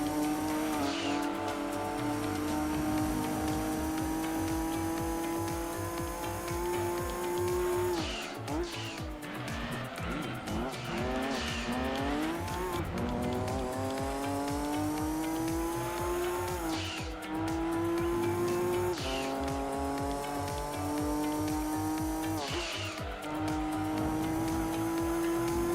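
A black Toyota Supra racing in Gran Turismo 2, its engine whining up through the revs with gear changes, while tires squeal and skid repeatedly through the corners.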